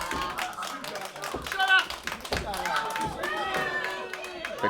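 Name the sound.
wrestling crowd clapping in Campbell River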